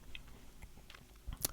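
Gum is chewed right at the microphone, giving faint, soft, close-up wet clicks and smacks in irregular rhythm over a quiet background.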